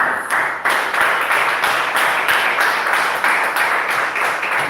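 A church congregation at a prayer service claps together in a steady, rhythmic beat, a dense continuous applause filling the room, loud and sustained with no break.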